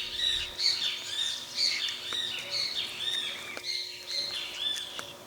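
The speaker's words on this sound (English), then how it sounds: "Just as the birds were raising the alarm, Onyx suddenly froze." Small birds chirp and tweet in quick, repeated bursts, fairly close and steady, with no other sounds around them.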